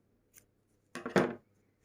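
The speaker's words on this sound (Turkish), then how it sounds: "Fazla iplerinizi makas yardımıyla alabilirsiniz." Scissors snip off excess crochet yarn from a small crocheted flower: a tiny click followed by a short, crisp double cutting sound, close up and alone in a quiet room.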